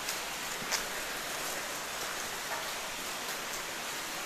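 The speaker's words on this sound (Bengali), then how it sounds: "ঘুরে বৃষ্টি হইতেছে, একটু পরপরই বৃষ্টি হয়।" Rain falling on a Singapore street, a dense, steady wash of drops on hard surfaces, loud and unbroken, with no talk.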